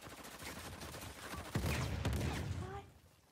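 Pistol shots in Uncharted 4, a couple of sharp reports around the middle of a short stretch of game sound with a voice talking over it.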